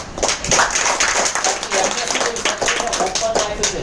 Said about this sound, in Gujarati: ડૉક્ટર સાગર સાહેબ માટે એક જોરદાર તાળી